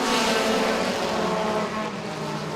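At Owosso Speedway, a pack of sport compact race cars accelerates hard at a race restart, with loud, overlapping engine roars close by that ease slightly as they pull away.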